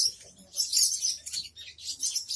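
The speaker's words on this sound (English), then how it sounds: "They're just cute little birds." Small birds nesting above a light chirp and tweet in quick, high bursts, fairly close and moderately loud, with a few brief pauses between calls and no talking.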